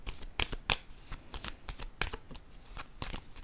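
Tarot cards are handled and laid down on a table, making a series of close, soft slaps and shuffling flicks in quick irregular bursts with no talk.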